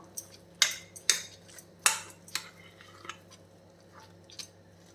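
A spoon works urad dal batter with salt in a bowl, making a few sharp clinks and soft wet squelches, quiet and close, with several distinct strokes early and fainter stirring afterward.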